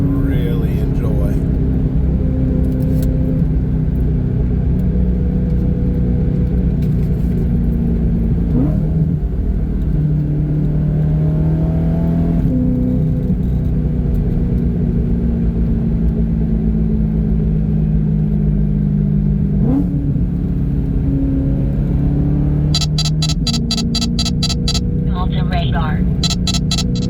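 A BMW E93 M3 with the S65 V8 engine drives along the Blue Ridge Parkway, heard from inside as a steady, loud rumble with gear shifts and rising revs, under intermittent talk and a brief chime near the end.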